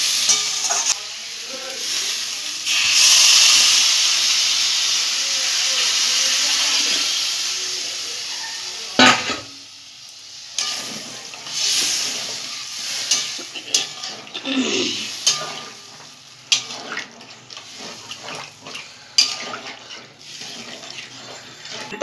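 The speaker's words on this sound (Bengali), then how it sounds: "ঝোলটা একটু ফুটুক" Bengali fish curry gravy bubbling in a pan with fried potatoes and spices, a loud hissing simmer that swells and fades, joined by stirring clatters and wet bubbling, no talk.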